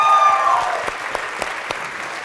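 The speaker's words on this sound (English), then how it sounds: "Let's give her a round of applause" Audience applause at a NAR event for Latino homeowners and mortgage lending fills the opening as a steady wash of clapping, then thins into a handful of scattered final claps.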